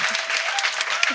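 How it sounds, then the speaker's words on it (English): A small audience at a book launch gives a short round of applause, a brief spatter of clapping that is close and moderately loud. "small round of applause"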